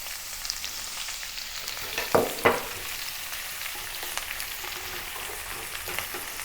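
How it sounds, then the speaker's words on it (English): Ginger and green onions sauté in hot oil over medium heat, a steady close-up sizzle with a few sharp pops and stirring scrapes about two seconds in, no voices present. "Heat some oil and then saute the ginger and the green onions."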